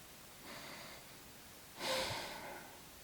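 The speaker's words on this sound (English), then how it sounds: "Let's take 2 more deep breaths" Two slow, deep breaths during a soft yoga flow, a gentle inhale followed by a fuller, breathy exhale, close and quiet with no talking.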